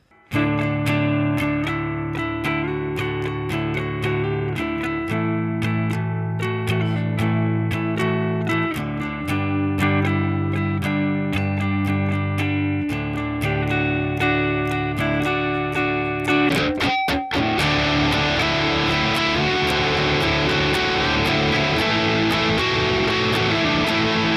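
Electric guitar playing an intro riff, first as a clean picked arpeggio pattern, then switching abruptly near the end to a thick, loud distorted tone, continuous and with no voices.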